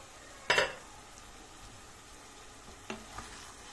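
Eggplant and kavurma meat fry quietly in a pan with a soft, steady sizzle, broken by a sharp clatter of a utensil against the pan and a couple of lighter clinks later.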